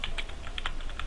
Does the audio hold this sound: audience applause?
no